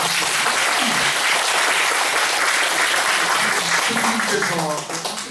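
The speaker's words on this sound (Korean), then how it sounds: "다시 한번 일단 박수 부탁드립니다" A lecture audience at a special guest talk breaks into sustained applause, dense clapping filling the room and easing off toward the end while a voice speaks over it.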